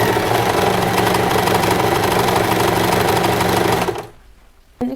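An Usha Allure Dlx sewing machine stitches fast and steadily up close, a dense continuous mechanical whir for about four seconds before stopping abruptly, followed by a brief click.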